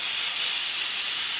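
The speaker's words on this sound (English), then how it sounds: "So I'm just going to use some carburetor cleaner." Carburetor cleaner sprays in a steady, loud, unbroken hiss from an aerosol can onto oil-soaked cast iron, with no pauses or voices.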